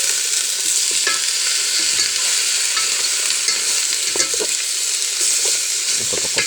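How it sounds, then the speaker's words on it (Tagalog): Chicken stew, tinula manok, simmers and bubbles in a cooking pot while a spoon stirs and scrapes through it, a steady sizzling hiss with scattered clinks, close up and without any talk. "Kuto-kuto na ang sulod sa kaldero sa gilatan."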